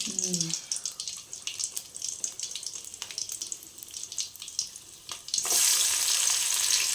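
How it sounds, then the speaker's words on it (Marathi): Garlic tempering hitting hot oil for a home-style Konkan fresh cashew vegetable dish: after some light kitchen clatter, a sudden loud, steady sizzling hiss erupts near the end and carries on close by. "पहिली लसणीची फोडणी दिली आहे"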